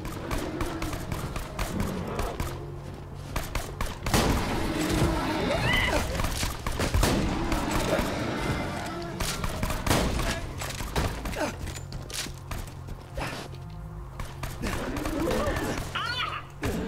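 Shotgun gunfire in the shooter video game Borderlands 2, repeated heavy blasts and thuds in a dense, busy battle mix over continuous game effects, with a player talking now and then.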